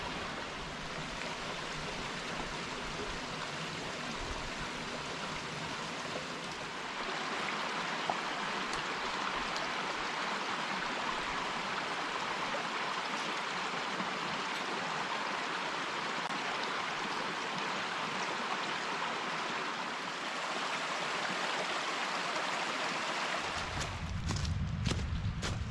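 A low mountain stream flows over plenty of exposed rocks on a backpacking trail, making a continuous close rush of water that shifts slightly midway and ends with a few rustles and thumps.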